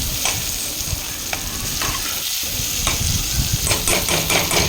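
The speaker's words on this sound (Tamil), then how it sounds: "எண்ணெய் பிரிஞ்சு வர அளவுக்கு வந்து நம்ம நல்லா வந்து வதக்கி எடுத்துக்கணும்" A curry base for fish kuzhambu fried in oil until the oil separates, a loud dense sizzle with repeated stirring clicks and scrapes throughout.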